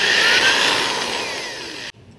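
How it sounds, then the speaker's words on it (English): A power drill bores speed holes into a mini bike's air filter, a loud, close, continuous whine that steadily drops in pitch before cutting off abruptly. "We drilled some speed holes in it for more airflow and speed."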